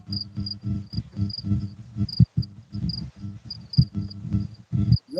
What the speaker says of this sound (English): I just hear crickets and clicking and shit.